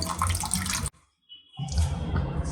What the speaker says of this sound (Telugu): మనకు కావాల్సిన వాటర్ పోసేసుకొని ఇందులో చింతపండు పులుసు కూడా యాడ్ చేసేసుకోండి